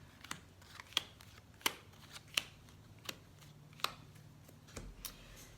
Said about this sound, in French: Alors, on va faire un tirage en 9 cartes.